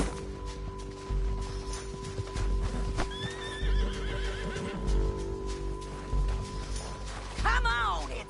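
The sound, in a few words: horse neighing and hooves from video game Red Dead Redemption 2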